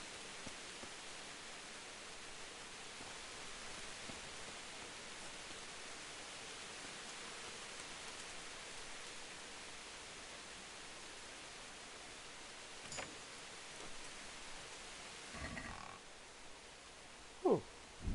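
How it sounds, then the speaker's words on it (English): Steady rain from the video game Kingdom Come: Deliverance, heard inside a tent as an even broadband hiss that holds for the whole stretch, with a few brief louder knocks near the end. "it's raining inside the tent."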